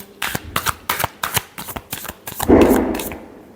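A deck of tarot cards is shuffled by hand in a rapid series of crisp riffling bursts, about eight quick snaps ending in a longer ruffle, close and loud with no talk.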